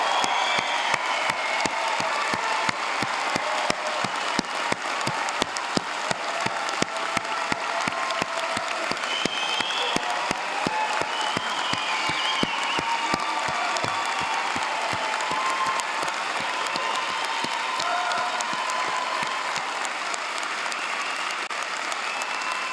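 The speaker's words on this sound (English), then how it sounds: "offering an enthusiastic round of applause to the MacEwan University graduating class of" A large convocation crowd gives a long, sustained round of applause for a university graduating class, dense clapping holding steady for over twenty seconds before tapering slightly at the end.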